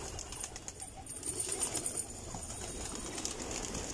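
Pigeons in Okhla, Zakir Nagar stir with soft wing flaps and faint coos amid a low background hiss, quiet and fairly distant throughout.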